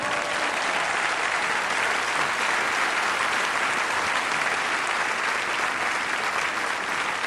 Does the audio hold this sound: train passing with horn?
no